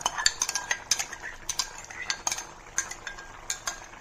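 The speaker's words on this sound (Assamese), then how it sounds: "বিলাহীখিনি এতিয়া দি দিলোঁ" Quiet, repeated metallic clinks and scrapes of a spoon stirring in a pan as tomatoes go into a potato and climbing fish curry, in an irregular rhythm throughout.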